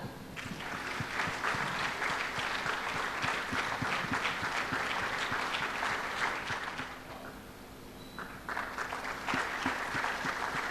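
A church congregation at a Sunday service claps for an award-winning primary school student, a steady, moderately distant patter of many hands that dips briefly and then resumes.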